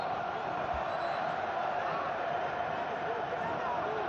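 Botafogo supporters fill a football stadium with noise during a Rio state championship final against Vasco, a steady, dense crowd roar that holds throughout with no distinct peaks.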